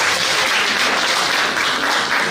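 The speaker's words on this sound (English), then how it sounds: "Clap for her." Dense, loud applause from an audience at a scholarship award ceremony, steady clapping filling the room as a speaker is welcomed to the front.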